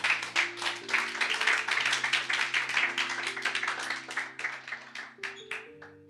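A church congregation claps steadily in rhythm to acclaim the Lord, loud continuous hand claps over sustained organ or keyboard chords, no speech.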